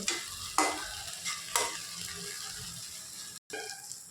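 Okra stir-fries in a pan: a spatula scrapes and clatters a few times while steady sizzling continues close by, fairly loud and without talk.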